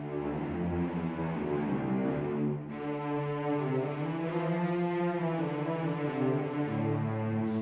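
A sampled cello from the Pacific Strings orchestral library plays sustained, legato bowed notes with the close microphone at normal level, rich and continuous across the whole passage, with no talking over it.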